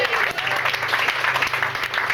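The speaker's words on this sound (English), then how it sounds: "can we give them a round of applause for today?" A crowd applauding loudly with dense, continuous clapping, while a voice carries on over the noise.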